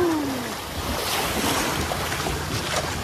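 River water splashes and rushes against a small boat on the upper Sibau, a tributary of the Kapuas in West Kalimantan, as a steady broadband wash with wind noise buffeting the microphone.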